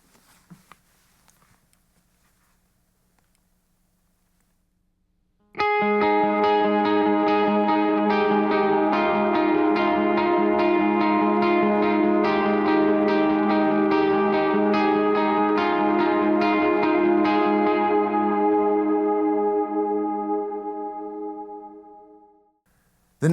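Electric guitar riff from a worship song played through effects, entering after a few seconds of near silence, then ringing loud and sustained with shimmering, echoing chord tones before fading out at the end.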